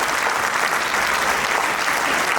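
Dense, steady applause from an audience at a government school mentorship program ceremony, many hands clapping together at close range without a break.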